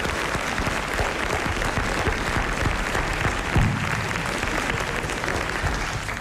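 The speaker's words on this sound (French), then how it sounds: "je vais vous demander d'applaudir monsieur Nicolas Jacques de Reims" Studio audience applause on a French radio talk show, a steady, dense wash of clapping that carries through the whole stretch without letup.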